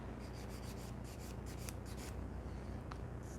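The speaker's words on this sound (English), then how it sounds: "And now I can file them." A nail file rasps back and forth across gel nails during a rebalance, shortening and straightening each one and blending around the cuticle, making soft, steady, close scratching strokes in a quick repeated rhythm with no talking.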